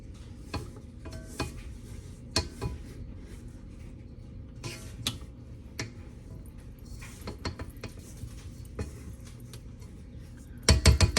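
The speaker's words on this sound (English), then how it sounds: "Just give her a good old scrape down. Make sure all that butter's coming off." A spatula scrapes butter from the sides and bottom of a mixing bowl for sugar cookie dough, giving repeated soft scrapes and occasional clinks against the bowl, with a louder knock at the end.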